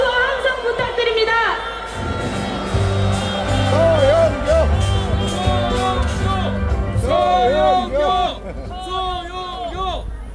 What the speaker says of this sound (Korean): 여러분, 큰 박수와 함성 부탁드립니다.